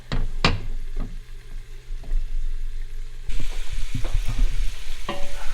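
Chopped onions are tossed into a hot pan in a home kitchen and start frying, with a few sharp clatters and stirring knocks before a louder, steady sizzle takes over near the end; no one speaks.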